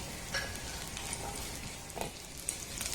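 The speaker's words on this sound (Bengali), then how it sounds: "এবার এটাকে একটু আমি নাড়াচাড়া করে ভেজে নেব" Dry fruits and raisins frying gently in a pan on low heat, a soft continuous sizzle with occasional stirring clicks and scrapes, fairly quiet and close.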